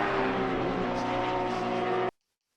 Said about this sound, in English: Got a car coming up behind.